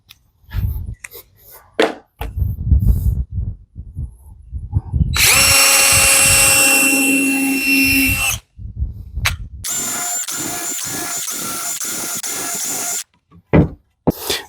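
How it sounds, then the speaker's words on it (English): Power drill bursts into wood drilling pilot holes for a floating shelf: a couple of short revs, then two sustained whining runs of several seconds each, close and loud, with brief pauses between. "I'm going to drill my pilot holes"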